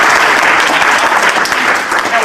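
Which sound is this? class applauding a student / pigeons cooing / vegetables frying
class applauding a student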